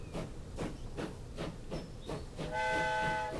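Early steam trains in the video game Transport Fever, a quiet rhythmic chuffing of about eight even beats, with a whistle sounding near the end.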